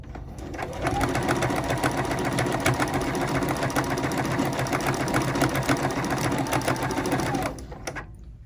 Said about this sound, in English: I want to stitch all the way up to where that diagonal is